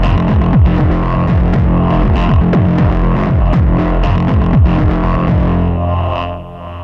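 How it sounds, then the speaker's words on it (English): Chorus and delay effects from the CUBE software instrument by Lunacy Audio colour a loud, dense synthesized pattern of repeating pitched bass notes with a throbbing pulse, playing steadily before easing off at the end. "chorus, delay."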